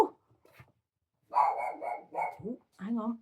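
A small dog barks in a short burst of close, sharp yelps, with a faint sound before them and one more bark after a brief gap, in an otherwise quiet indoor space.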